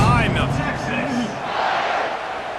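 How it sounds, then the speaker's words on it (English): Stadium crowd in EA College Football 26 roars steadily before a kickoff, a loud dense wash of cheering with shouting voices throughout. "this crowd now ready to get behind them"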